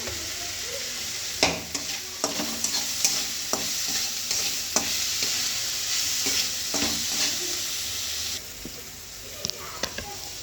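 Turmeric and homemade masala being sautéed in a pan for a village-style stuffed brinjal bharit, a steady sizzle broken by repeated scraping stirs, loud and close, with no one talking.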